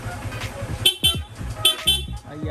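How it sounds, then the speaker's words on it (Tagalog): Stock horn on a Yamaha Sniper 155 motorcycle gives two short, loud beeps about a second apart, with a voice and a busy street backdrop around them. "Sir, pa-stock na busina naman."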